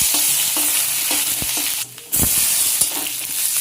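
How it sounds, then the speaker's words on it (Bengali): Crushed ginger fries in oil tempered with dried red chili and bay leaf, a continuous close sizzle broken by regular scraping stirs of a spatula against the pan, with a brief quieter moment midway. "আদা থেতো করা দিয়ে দিলাম।"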